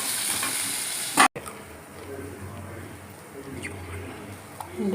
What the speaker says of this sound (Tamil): கொஞ்சம் எண்ணெய் ஊற்றி சீரகம் போட்டு வெங்காயம்லாம் போட்டு நல்லா வதக்கணும்